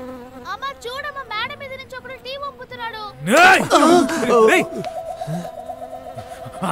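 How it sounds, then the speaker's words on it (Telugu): A fly buzzes loudly close by for a couple of seconds, rising and falling in pitch, with people talking before and a steady whine after. "ఈగ చంపేయాలరా"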